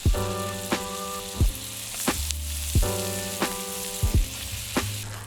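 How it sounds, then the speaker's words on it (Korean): Pollock roe fries in generous melted butter in a preheated pan, giving a steady close sizzle. Recurring pitched swooping tones sound over it. "버터가 다 녹았다면 명란젓을 넣어줍니다."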